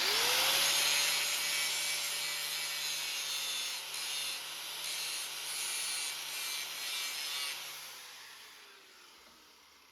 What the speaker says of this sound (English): So we'll have a go with the grinder now and see what the sparks look like.